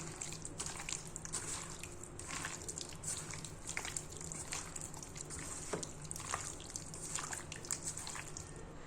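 Chicken is kneaded by hand with egg and half a lemon for jeeraga samba biryani, giving close, wet squishing and dripping sounds in irregular bursts that stay continuous and moderately quiet.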